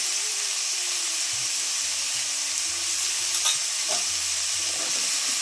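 Pumpkin sabzi with turmeric and salt, tender seeds left in, sizzles steadily in a pan over a wood-fired chulha while a spoon stirs it with soft scraping passes, a constant close frying hiss throughout.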